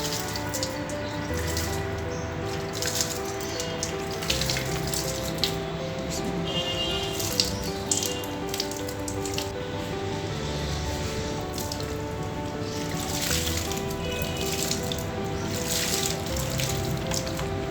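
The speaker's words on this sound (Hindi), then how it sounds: "तो मैं ऐसे पानी ला कर दिया था तो पौधों में पानी डाल रही थी।" Water is poured onto potted plants at home, a steady splashing trickle running continuously with small irregular drips throughout, moderately close.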